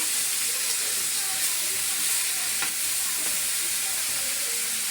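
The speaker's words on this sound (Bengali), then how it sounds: "মাছগুলো ভেজে নিচ্ছে।" Poa fish fry in a pan with a steady, dense sizzling hiss that holds unbroken and fairly loud throughout.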